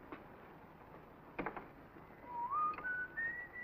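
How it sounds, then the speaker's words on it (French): A man whistles a short, cheerful tune of rising, gliding notes, faint against quiet indoor room tone, with a brief clatter just before the melody begins. "T'as l'air bien gai ce matin, tu siffles comme un merle."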